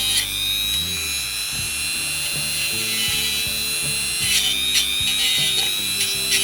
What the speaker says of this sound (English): Dremel's warmed up. Using our wire brush, we'll run over the top.